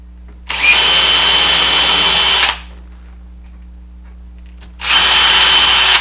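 A power drill drives short screws into the front of a wooden sand-blasting cabinet in two loud, steady whirring bursts, each about two seconds long, separated by a quiet pause with a faint low hum.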